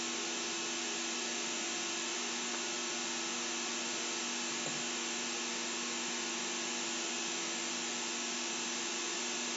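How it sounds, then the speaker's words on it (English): A cleaner machine, a Crest copy, runs with an even, moderately quiet hiss and hum that holds constant from start to finish, with no voices. "This cleaner is basically a Crest copy."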